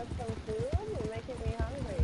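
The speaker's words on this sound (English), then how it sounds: "I heard your horse shrill when it ran over it" A horse in the game Red Dead Redemption 2 clip-clops along at close range while people talk over it, with a high wavering whinny-like call rising through the middle.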